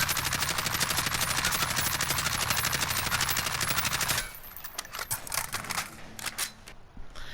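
Automatic gunfire in the video game Warzone, a long rapid burst of evenly spaced shots for about four seconds, followed by scattered quieter clicks and short bursts.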